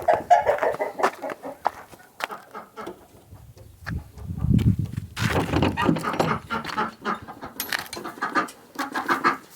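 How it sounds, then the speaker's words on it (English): A broody hen clucks and murmurs in low, soft bursts, close by, with some rustling and shuffling around her; no talking. "Let's go check on our other broody hen."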